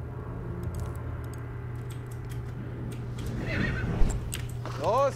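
A horse in Battlefield 1 gives a rising whinny near the end, over a steady low rumble of battlefield noise with scattered clicks and a brief thump just before it.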